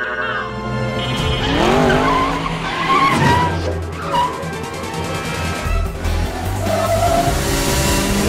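Race cars in the Wreck-It Ralph video game tearing off at the start of a race, loud close tire squeals and skids over roaring, revving engines, continuous throughout.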